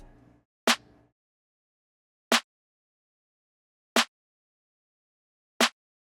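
A punchy slap snare in a hard melodic trap beat strikes four times in a basic pattern, evenly spaced about every one and a half seconds, sharp and close, with a brief low tail of music fading under the first hit.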